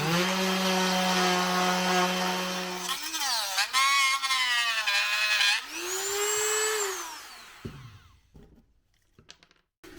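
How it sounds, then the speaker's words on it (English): Power sanding on a homemade 4.5 cut off tool, a loud steady whining grind that shifts pitch several times, swells and fades, then stops into scattered small clicks and handling noises. "I'm just going to sand that down."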